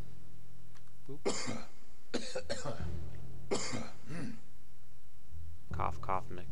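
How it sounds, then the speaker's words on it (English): A man gives several short coughs and throat clears in separate bursts, close to the microphone, with some talking in between, against a quiet room background during a PC game session. "Cough, cough"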